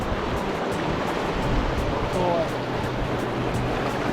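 Loud, continuous roar of river rapids rushing around a raft on the Green River at about 1700 cfs, a dense close wash of churning whitewater that fills the whole moment without letup.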